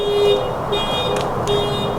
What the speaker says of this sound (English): Sorry about the freaking alarm in the background.